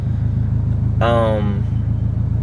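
A steady low engine idle from a boosted Scion FR-S drones throughout, with a brief burst of voiced sound over it near the middle.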